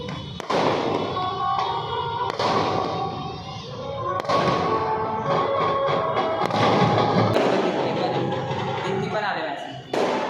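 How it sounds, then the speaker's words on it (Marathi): Firecrackers crack and pop repeatedly amid a loud, busy crowd during Ganesh Chaturthi, with sharp bursts standing out over continuous chatter and background noise. "फटाके फुटतात"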